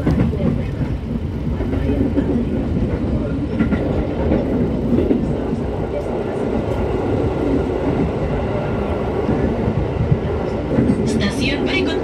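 Steady, continuous rumble of a passenger train running on rails, heard from inside the carriage, with a dense low roar and faint rhythmic clatter throughout and a brief higher squeal near the end.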